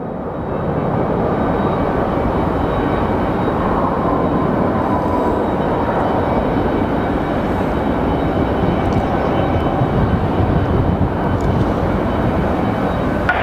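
An airliner landing at Phoenix Sky Harbor International Airport on a windy day gives a loud, steady, broadband roar that holds for the whole stretch with no voices over it.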